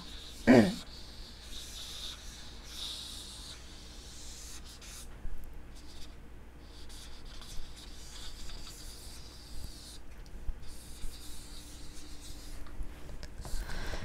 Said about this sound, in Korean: 자, 다시 똑같은 지도를 그려볼게요